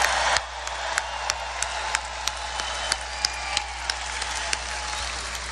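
Large crowd at a 2016 Donald Trump rally in Melbourne, Florida breaks into dense, sustained applause that holds steady throughout, with sharper individual claps and cheers popping out of the roar.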